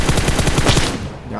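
Rapid automatic gunfire from a PUBG Mobile match, a loud burst of regularly spaced shots that cuts off near the end, leaving a quieter tail.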